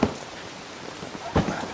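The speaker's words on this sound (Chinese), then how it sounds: "没想到下这么大雨。" Heavy rain pours at a campsite, making a dense, steady hiss with a louder burst of patter near the end.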